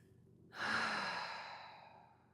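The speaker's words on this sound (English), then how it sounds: "Your breath does not have to match mine" During a slow, gentle stretching exercise, a single deep breath is drawn in and let out as a long, soft sigh, heard close and on its own.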